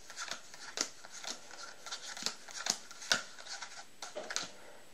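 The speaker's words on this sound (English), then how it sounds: "They can do a randomizer shuffle too." Playing cards shuffled by hand, a rapid series of crisp, light riffling clicks and snaps in an irregular rhythm, quiet and close, with no voices.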